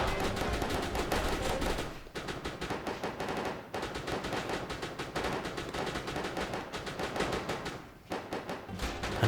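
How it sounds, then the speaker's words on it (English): Rapid bursts of machine gun fire rattle continuously, with short pauses between volleys, loud and close, the shots blurring into a dense chatter. "he and the goons' return fire were creating a disturbance"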